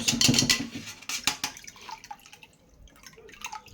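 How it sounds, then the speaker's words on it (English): Water from freshly washed breadfruit (ukwa) pours and drips through a sieve, a close splashing trickle that thins into scattered drops, with no voices. "So I'm going to sieve it out."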